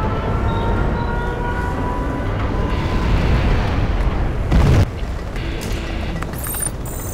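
A nuclear missile launch in the strategy game Command & Conquer Generals produces a loud, sustained roaring rumble that builds over several seconds, then cuts off with a sharp, bright burst before a quieter lingering tail.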